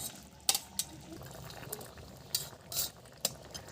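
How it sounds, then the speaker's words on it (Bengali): Fish heads dropped into a simmering bottle gourd curry in a pot, giving several sharp wet splats and clinks spread across a few seconds over a low bubbling background. "এবার আমি মাছের মুড়োগুলো দিয়ে দিচ্ছি"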